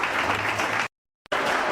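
A Pentecostal church congregation claps loudly and steadily, cutting to near silence for a moment with a single faint tick before the dense clapping resumes.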